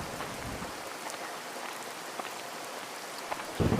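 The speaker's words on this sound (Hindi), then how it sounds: "रास्ते में बहुत जोरों से बारिश शुरू हो जाती है।" Heavy rain pours down on a road at night, a dense, steady hiss of drops striking the ground, close and unbroken throughout with no voices.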